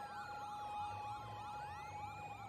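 In an anime, several sirens wail at once, their rising and falling tones overlapping continuously in a dense, distant-sounding chorus.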